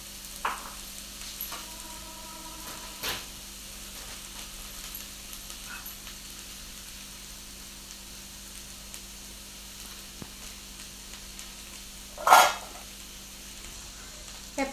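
Cauliflower frying in a pan and being stirred, with a quiet steady sizzle and a few sharp scraping knocks, one louder scrape near the end, no talking.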